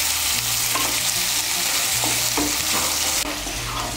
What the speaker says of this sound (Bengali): আলুগুলোকে আমি টুকরো করে কেটে নিয়েছি। আলুগুলোকে ভেজে নেব।